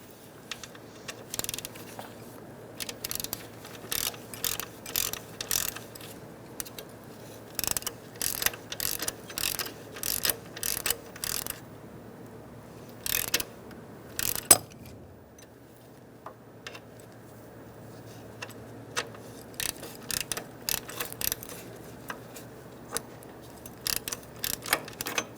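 A hand ratchet backs off a bolt on the alternator bracket of a 2000–2007 Ford Taurus 3.0L V6, giving close, crisp bursts of rapid clicking separated by short pauses.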